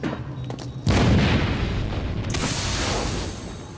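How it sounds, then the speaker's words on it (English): A grenade in Batman: Arkham City goes off with one sudden heavy boom after a brief quiet stretch, followed by a long rumbling decay that lingers to the end. "Grenade!"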